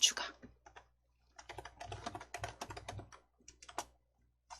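Keys clatter on a computer keyboard during a block-coding class, entering names into a list; an irregular run of close, crisp taps with pauses.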